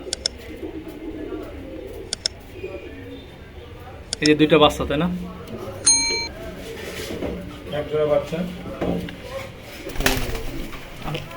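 Pigeons in a pigeon farm coo softly and repeatedly in the background while someone talks over them nearby.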